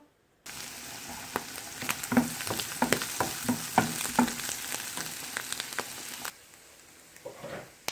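Beef steak seasoned with pepper sizzles loudly in a hot pan, a dense, crackling fry with popping spatters that cuts off abruptly near the end.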